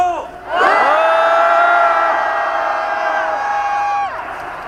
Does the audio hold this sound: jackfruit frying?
no